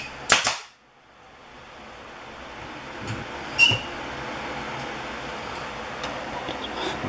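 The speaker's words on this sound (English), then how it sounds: "So you're using your nail gun, right? Yes. I just shoot it right into the wall." Nail gun firing nails into the interior wall of a 2006 Cruiser fifth-wheel trailer during renovation: a sharp close double crack at the start, then a lighter shot a few seconds later over steady background hum.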